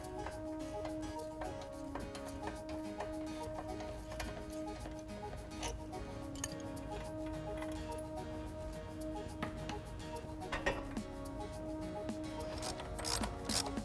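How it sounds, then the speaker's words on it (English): Faint, steady ratcheting clicks continue throughout as a tool loosens the ball joint nut on a 2003-2006 Ford Expedition's front suspension, with occasional sharper metallic ticks. "Loosen and remove the ball joint nut to separate the ball joint from the spindle assembly."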